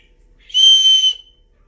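Small plastic whistle built into a survival bracelet, blown once in a single shrill, steady blast lasting about half a second, close and loud with silence before and after.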